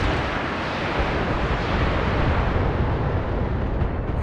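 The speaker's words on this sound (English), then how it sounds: "Lots of explosions." Explosions in the BattleTech video game, a dense roaring blast of rumbling noise that swells and sustains for several seconds without pause, loud and broad, with no speech over it.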